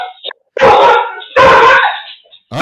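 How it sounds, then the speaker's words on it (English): An agitated dog barks loudly and close by in sharp bursts, with two long barks and a few shorter yips in quick succession and no talk over them. "Oh, your dog's freaking out."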